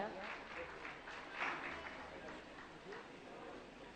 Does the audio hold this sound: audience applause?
yes